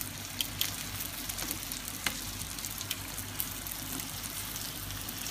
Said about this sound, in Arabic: طبعا سبرينج رولز بدي اقول لكم انه ما بياخذ كثير قلي على الوقت